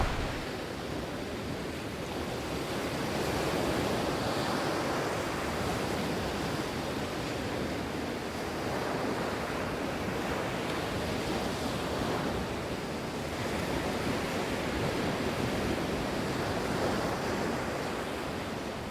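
Ocean waves roll onto the beach at Lobitos, Peru, a continuous roaring wash of surf with slow swells rising and falling, wind brushing the microphone, no voices.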